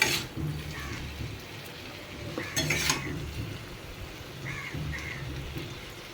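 Stirring a pot of papaya curry made with small chopped shrimp, a spoon scraping and clinking softly against the pan in an irregular rhythm, with crows cawing faintly in the background.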